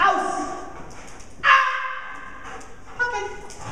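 A police K9 dog working against a bite sleeve during training lets out high whimpers and short yips, close by and fairly loud, with people talking around it.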